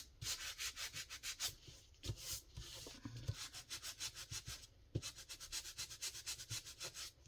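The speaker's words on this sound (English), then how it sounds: "I'm going to get this off with my little sandpaper." Small sandpaper rubs back and forth on a craft journal in steady rhythmic strokes, close and soft, with a couple of brief pauses and light knocks between runs.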